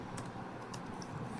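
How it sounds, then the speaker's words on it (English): Soft typing on a computer keyboard, a few faint scattered keystrokes close by under a low background hiss. "so I'm just going to type it out."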